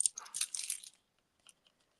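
Paper strip for a handmade quilt card being snipped off with scissors, a quick crisp burst of cutting that lasts under a second, followed by faint small ticks and near silence.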